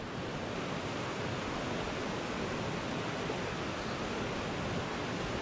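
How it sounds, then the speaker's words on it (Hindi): Steady rushing river water in Manali fills the whole stretch, a constant broadband wash with no pauses, close and fairly loud, like a fast mountain stream. "बहुत अच्छा साउंड है पानी का इधर"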